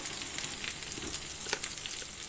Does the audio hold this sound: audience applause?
no